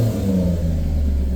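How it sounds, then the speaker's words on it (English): A 2018 Maserati GranTurismo engine rumbles deep and loud close by, holding a steady low idle-like growl with slight rises in pitch. "As you can hear,"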